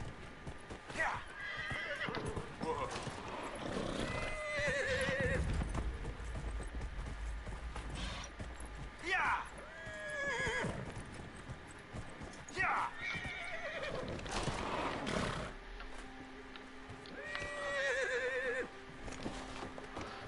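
Horse neighing and clopping hooves from the video game Dragon Age: Inquisition. Several whinnies come in bursts over steady hoofbeats across the stretch.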